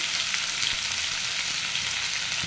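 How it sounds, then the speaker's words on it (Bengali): Rohu fish head fries in hot oil with turmeric and salt, a dense, even sizzle close to the pan that holds steady and loud for the whole stretch with no voices. "হ্যাঁ হালকা একটু লবণ দিয়ে ভেজে নেব"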